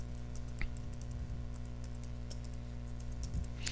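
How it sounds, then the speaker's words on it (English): Keystrokes on a computer keyboard as a web address is typed into a browser, a few sparse clicks spread across a few seconds over a steady low background hum. "up here on our address I'm going to type the direct address for"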